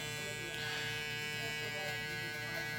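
A Fusion hair clipper runs with its blade in the open position, giving a close, steady electric buzz with slight rises as it cuts into hair during a fade.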